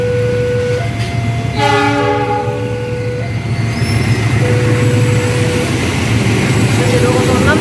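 The Wijaya Kusuma passenger train, pulled by a locomotive and made up of K1 coaches, passes close by in Jogja, sounding a loud multi-tone horn blast over the heavy rumble of its wheels.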